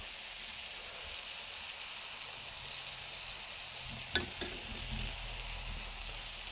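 Garlic butter and steak sizzle on a hot Blackstone griddle, a steady bright hiss running unbroken throughout, with a brief metallic scrape partway through and no talk.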